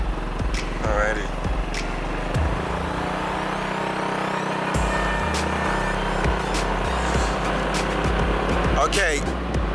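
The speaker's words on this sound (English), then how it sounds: "Riding and holding your motorcycle with one hand and then vlogging on another" A motorcycle ridden along a road in Thailand, its engine droning steadily with wind rush and passing traffic, while a person talks over it.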